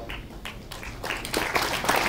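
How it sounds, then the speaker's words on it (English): Spectators at a shooting competition in Munich give a round of applause for the shooters, soft scattered clapping that builds slightly toward the end, somewhat distant. "this is an extra applause for the shooters."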